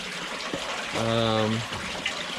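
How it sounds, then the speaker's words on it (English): Fresh spring water flows into the collection box of a small community water system, a steady hiss and splash of running water throughout, with a short humming voice-like tone partway through. "there you can see fresh water coming in from the spring"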